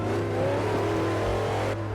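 A car engine in the racing game Forza Horizon 1 hums and revs steadily with a rising, whirring pitch, close and loud, shifting tone near the end, with no voices.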